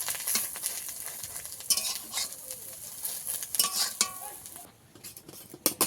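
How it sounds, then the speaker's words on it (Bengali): An egg frying in a pan, crisp sizzling with frequent clinks and scrapes of a utensil against the pan, loud bursts that drop away briefly near the end. "ডিমটাকে ভালো করে ভেজে নেব ডিমটা ভালো কড়া করে ভেজে নিলে খেতে সুন্দর হয়"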